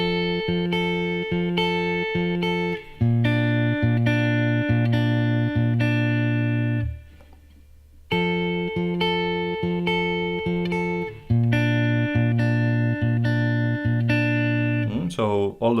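Fingerpicked acoustic guitar pattern, thumb bass notes alternating with plucked upper strings in a steady repeating rhythm, loud and close, with a brief pause midway.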